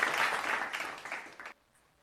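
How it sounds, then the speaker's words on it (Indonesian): Brief applause from pupils in a primary school classroom, a short burst of clapping lasting about a second and a half before cutting off to quiet. "Nah, bagus, tepuk tangan."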